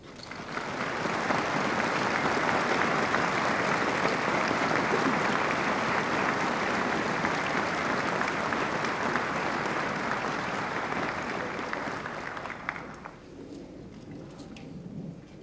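A large audience at a Korean War veterans gathering applauds their national leadership, a long, dense, roaring wash of clapping that holds steady for about thirteen seconds before fading out into quieter room noise.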